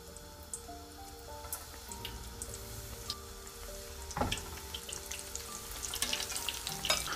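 Eggplant slices for a meze fry in very hot oil, giving a steady close sizzle dotted with small pops and spatters throughout.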